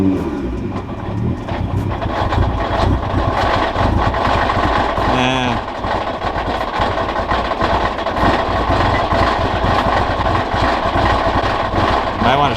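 An R35 Nissan GTR with newly installed high-flow fuel pumps runs continuously at close range, a steady loud engine drone throughout with a brief rise partway.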